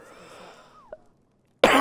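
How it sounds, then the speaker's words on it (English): A person gives a short cough, with one brief sharp burst in a quiet room and a louder harsh burst at the very end. "And I have a cough too"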